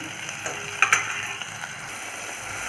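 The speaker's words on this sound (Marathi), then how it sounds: "कांदा चांगला लालसर भाजून घ्यायचा व हा चांगला भाजल्यानंतर टोमॅटो आपल्याला घालायचा याच्यामध्ये" Onion and tomato fry in a pan for misal with a soft continuous sizzle, broken by a few brief clinks and scrapes of a stirring utensil near the start.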